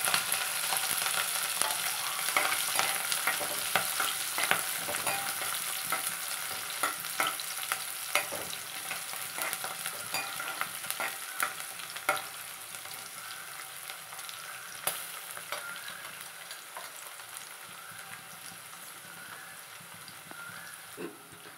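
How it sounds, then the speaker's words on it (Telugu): Cumin, cloves, green chillies and onion pieces sizzling in hot oil for Telangana bagara rice, a steady close crackle of frying with occasional scrapes and taps as the mix is stirred. "ఆయిల్ వేడయ్యాక కొద్దిగంత జీలకర్ర, 3-4 లవంగాలు, పచ్చిమిర్చి, ఉల్లిగడ్డ ముక్కలు వేసి బాగా కలుపుకోవాలి"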